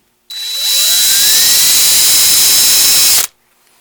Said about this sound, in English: you're going to want to use an 832 tap in the upper hole.